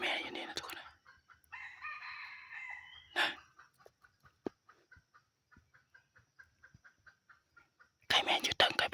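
A rooster crowing in a forest during a hunting outing, with drawn-out crows near the start followed by a run of short clucks, soft whispered voices, and a loud burst at the end.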